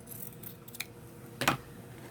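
Scissors trim fabric for a junk journal, giving a few soft, quiet snips close by and one sharper cut near the end over a low background hum.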